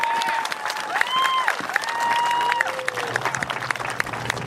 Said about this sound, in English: give a round of applause for everyone showing up today